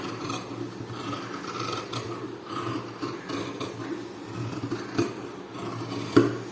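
Scissors cutting blouse fabric, several layered pieces at once, producing a steady close-up rasping, rubbing crunch that continues throughout, with a few sharper snips toward the end.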